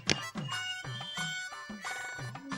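A mobile phone payment app plays a short melodic notification tone, bright chiming notes that sound alone, close and clear for a couple of seconds.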